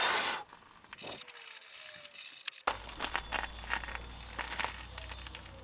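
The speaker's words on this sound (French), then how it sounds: "Et on regratte. On n'hésite vraiment pas à faire sauter la peinture pour aller en profondeur." A scraper works over old paint on the side door of a van, producing close rasping, scratching strokes in an irregular rhythm, with a louder burst of scraping early on.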